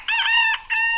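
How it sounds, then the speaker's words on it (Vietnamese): An old rooster in a cartoon folktale crows in a loud, close, harmonic call, one long sustained note followed by a shorter second burst, with no talk over it. "Sao lại có tiếng gà gáy vào giờ này thế nhỉ?"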